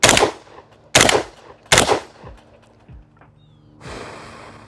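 Browning Auto 5 semi-automatic shotgun fired outdoors on a range: three loud, sharp blasts about a second apart, each trailing off in an echo, followed by fainter mechanical clatter and a low wind-like rush at the end.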